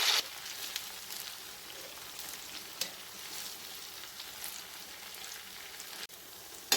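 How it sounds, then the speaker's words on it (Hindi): Pumpkin gulgule, sweet fried dumplings, bubbling in hot oil with a steady crackling sizzle, plus occasional stirring clinks and scrapes, heard up close. "अब इनको भी हम लगातार चलाते हुए फ्राई कर लेते हैं।"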